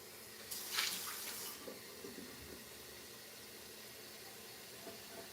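Water running from a kitchen tap into a cup for mixing taco seasoning, a brief splashing burst near the start settling into a soft steady trickle with faint clinks.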